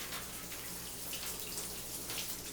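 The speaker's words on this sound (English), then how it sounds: "anytime you take meat out and you're getting ready to devour it, you must rinse it" Water from a tap runs in a steady, hissing stream while sausage meat is rinsed, a close, continuous wash with no voices.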